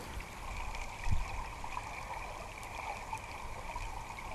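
River water runs steadily through a narrow rocky mountain gorge on the Villahermosa river, a soft continuous rush and trickle heard from a little distance, with one brief low thump near the start.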